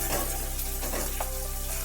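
Asafoetida and grated ginger frying in ghee give a steady, close sizzle with light stirring scrapes in a pan, no voices.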